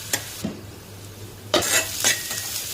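Onion sautéing in a pan, with a low continuous sizzle and a few distinct scraping stirs of a spoon against the pan, loud and close.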